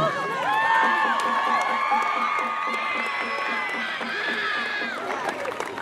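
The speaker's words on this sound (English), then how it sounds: "please give us one more round of applause for your homecoming. homecoming queen, Kayla Soto" Crowd at a high school football game cheering and applauding for the homecoming queen, a steady roar of shouts and whoops held at a constant level throughout.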